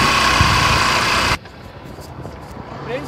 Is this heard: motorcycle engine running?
yes